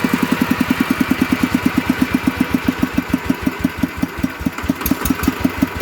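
A walking tractor engine idles close by with a steady, even chug of rapid regular pulses. It runs loud and alone with no talk.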